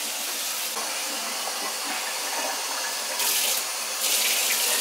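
A kitchen tap runs steadily for the whole stretch with a constant hissing gush. It is close and fairly loud, and the pouring grows brighter twice near the end. Nobody speaks.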